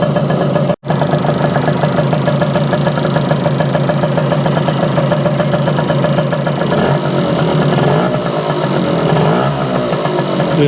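Small Yamaha Campus 60 YJ2 moped engine running steadily at a fast idle around 1500 RPM, a continuous loud buzzing putter close by with one brief dropout near the start and slight changes in tone later.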